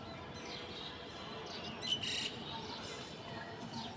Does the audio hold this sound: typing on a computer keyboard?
no